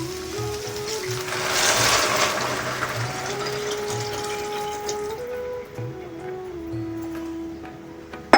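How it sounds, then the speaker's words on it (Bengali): Water runs into a large bowl of rice as a steady, close pour with a gentle splashing wash, holding fairly even for several seconds before stopping abruptly. "এই বাটিরই আমি বড় বোলটারই মাপেরই জল আমি এর মধ্যে অ্যাড করছি"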